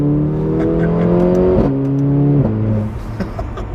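A Mercedes A45 AMG with a Remus exhaust roars loudly as it accelerates hard, its pitch climbing and dropping with two quick gear shifts, close by.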